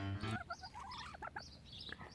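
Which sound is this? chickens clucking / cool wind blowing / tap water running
chickens clucking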